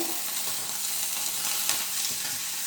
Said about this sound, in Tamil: கொத்தமல்லி தழை இந்த சூட்லேயே வதக்கிடலாங்க